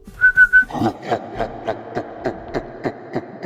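A person whistles a brief steady note, then a series of short rhythmic whistled or tapped pulses follows, close and clear.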